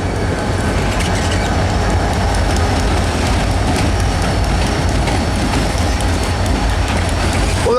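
A Wheeling and Lake Erie tank train pulled by SD40T-2 tunnel motor and SD40 locomotives rolls past close by at low speed entering a yard, a steady loud rumble of wheels and railcars with clickety-clack rhythm throughout.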